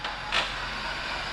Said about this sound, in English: That suspension still squeaks.